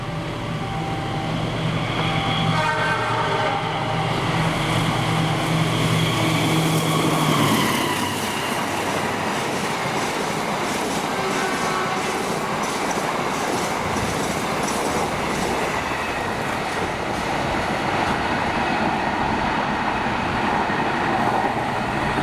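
Train passing on a railway line, a loud close rumble with rolling wheel noise and clatter that swells early then continues steadily as the cars go by.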